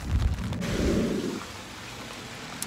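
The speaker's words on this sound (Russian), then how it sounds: "А вот такой дождь я увидел, когда выходил из больницы" Rain falls outside a hospital exit, a dense broadband hiss with a low rumbling wash early on that settles into a steadier, softer patter.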